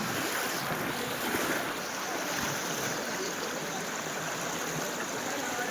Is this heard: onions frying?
no